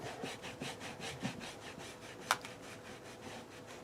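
Rhythmic scrubbing strokes work greasy, kitchen-grease-like grime off an old Yamaha, a steady close rasping rub with one sharp click partway through, no voices.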